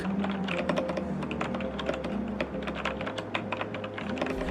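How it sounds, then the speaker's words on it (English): Steady, rapid typing on an optical-switch keyboard, with soft, even keystroke clicks in a continuous rhythm and no talking. "I reviewed the brown optical switch model, which was quieter and delivered a decent click"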